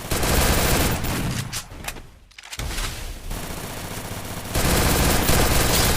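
Gunfire in the Free Fire video game: dense, loud bursts of automatic rifle fire that stop briefly and then start again in sustained volleys, with no talking.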